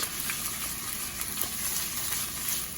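Onion dropped into about four tablespoons of hot cooking oil, frying with a continuous close crackling sizzle at a steady level, with no talk, while basil chicken fried rice is being cooked.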